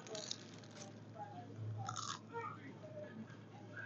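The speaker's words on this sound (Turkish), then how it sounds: "Bir tane ısırık alayım hatta sizin için." A bite into warm, fresh bread gives a crisp crunch near the mic, followed by soft chewing, with a faint hum of a supermarket in the Netherlands behind it.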